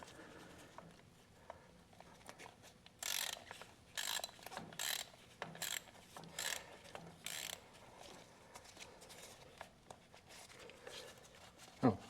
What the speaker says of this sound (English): maybe try tightening that back up. With the wrench on there.